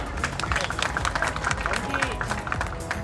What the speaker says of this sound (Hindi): तो एक बार इनके स्वागत के लिए जोरदार तालियां बजाएंगे